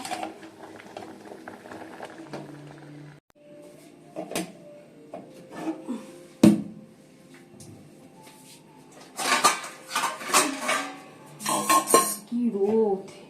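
A metal utensil scrapes and knocks against a pot while cooked rice is broken up in a home kitchen, bursts of clatter and scraping close by with pauses, louder toward the end.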